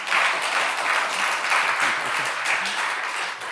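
Loud, sustained clapping from a church congregation at a family worship seminar as the pastor comes forward, many hands beating steadily throughout at close range.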